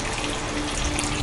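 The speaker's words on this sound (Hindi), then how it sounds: "यस, पानी आना स्टार्ट हो गया है, देख सकते हैं यहाँ पर।" Water gushes steadily from a pipe into a container in a homemade gravity battery setup, a dense continuous rushing and splashing that fills the whole moment, close and fairly loud with no voices.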